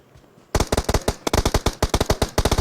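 Rapid bursts of automatic gunfire in a video game squad match, loud and close, starting after a brief quiet moment and continuing in uneven volleys of sharp shots.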